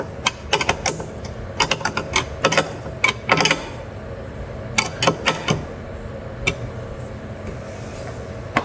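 Clustered ratcheting clicks come from a wrench tightening down a cowl-mounted light on a Jeep Gladiator, quick uneven bursts of sharp ticks separated by pauses, fairly close with no talking.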